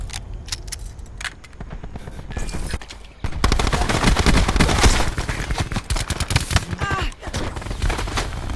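KAP 45 fire in Black Ops 4 gameplay: short bursts of rapid automatic shots give way to a long, dense stretch of sustained loud gunfire with brief breaks and mechanical clicks.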